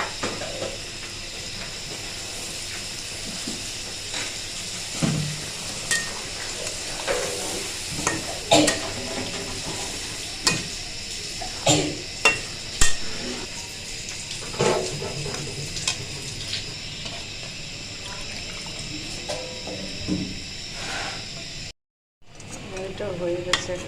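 Pabda fish sizzling in a pan during a Bengali bhuna preparation, with steady frying hiss and intermittent scraping stirs and clinks of a utensil against the pan, fairly close.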